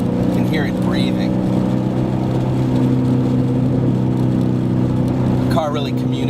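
A 2011–2014 Ford Mustang GT breathing through a Borla exhaust holds a steady, loud low engine drone throughout, with brief bursts of talk near the start and end.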